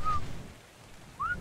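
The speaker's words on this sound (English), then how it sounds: "Are you actually hearing the whistle though?" Whistle in the video game Ark: Survival Evolved: two short, clear high whistle notes, one at the start and a rising one near the end, over low rumbling background noise.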